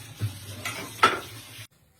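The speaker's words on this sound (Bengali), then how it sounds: "এবারে দিয়ে দিল ভাজতে গরম তেলের উপরে মাছ" Small fish, puti among them, rubbed with salt and turmeric, hit hot oil in a home kitchen, giving a short, close sizzle with a couple of sharp bursts and clinks before cutting off abruptly.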